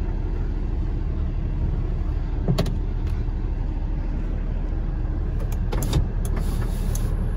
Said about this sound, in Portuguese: Vidro elétrico funcionando.